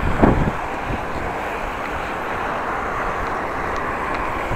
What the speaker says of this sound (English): Feels like I have wind in the back or from the side